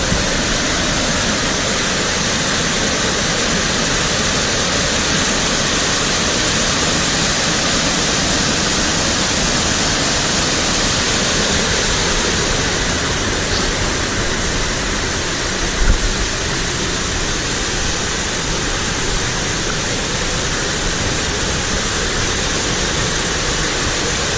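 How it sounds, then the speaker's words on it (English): Steady, full roar of falling water, broad and constant throughout, like standing close to a waterfall at Ricketts Glen State Park; no voices. "this is the first waterfall"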